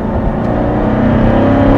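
A Corvette Stingray Z51 engine revs hard on the move, a loud, steady, close-up growl with rich low harmonics that holds throughout, with no talking over it.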